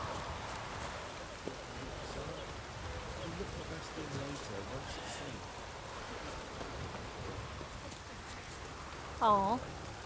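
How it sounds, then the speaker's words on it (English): Steady rain falls in The Witcher 3, a soft continuous patter of drops on surfaces that fills the whole stretch, with a brief louder splash near the end. "It is always raining in this world"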